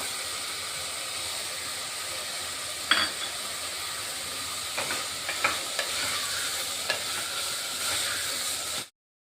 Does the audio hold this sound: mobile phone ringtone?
no